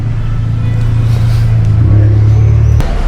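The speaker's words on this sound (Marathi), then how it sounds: "ट्रॅफिक जाम झालं. पोलीस गाडी उभी आहे" Cars stuck in a street traffic jam in Georgia, with a police car stopped nearby, give off a loud, steady low engine rumble that drones without a break and ends in a brief sharp knock.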